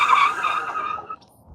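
A short, loud tire skid from a loaded Happyrun G100 e-bike braking hard with hydraulic brakes at about 23 mph, a close screech that fades out quickly.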